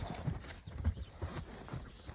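Horses shifting about on a ranch, their hooves clopping in scattered, uneven steps at close range, with soft low thuds and background rustle and no clear talk.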